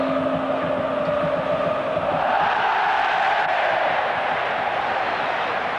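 A large stadium crowd at an Italian Serie A football match roars and cheers continuously. The broad swell of many voices rises slightly midway and holds loud throughout.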